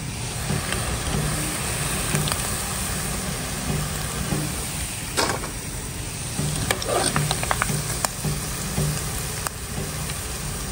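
Sweet potato fries sizzle steadily in hot cooking oil, a dense continuous frying hiss with occasional stirring clicks, close and loud throughout with no talking.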